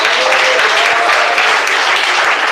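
Steady, dense clapping from a church congregation fills the room, loud and continuous with no break, the sound of many hands together throughout.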